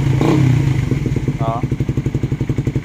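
A stock Suzuki Raider 150 motorcycle with complete fairings and a semi-open pipe idles close by, its engine thumping in a steady, even pulse throughout, with a brief voice and a short tonal chirp near the start.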